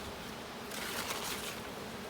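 Honeybees dusted with powdered sugar inside a jar with a mesh screen lid, used for a varroa mite test, give off a steady, dense buzzing hum that swells slightly midway and carries on with no talking.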